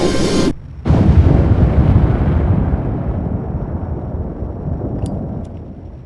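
Ship weapons firing in the I-War space combat intro, a loud booming blast followed by a long rumbling explosion that slowly fades, with a couple of faint high blips near the end.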